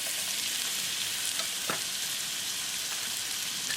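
Atlantic salmon pan-frying in butter gives off a steady, soft hiss of sizzling fat, with a few faint scrapes or taps from the pan.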